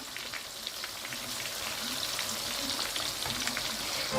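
Prawns fry in oil in a pan over a medium flame, a steady, even sizzle with soft crackles that grows slightly louder as they are turned.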